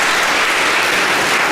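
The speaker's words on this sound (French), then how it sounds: "tous ont séduit le nombre public qui n'a pas du tout été avare en applaudissements." Dense, steady clapping from a large audience at a children's piano recital in Dakar, Senegal, heard loud and close for a brief stretch.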